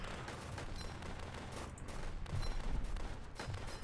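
Rapid bursts of machine gun fire in the World War tower defense game Northend, dense crackling volleys with a few heavier booms, fairly loud and continuous without any talk.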